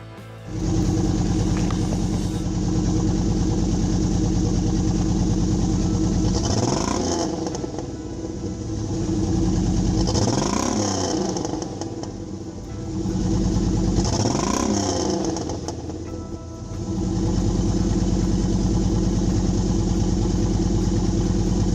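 A car engine runs with a misfire, a steady rough drone sitting outdoors in snow, swelling three times in brief revving surges before settling back to a constant uneven idle.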